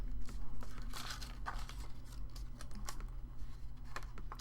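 Paper being folded for an origami dress, with close crinkling, tapping and creasing sounds in quick irregular bursts.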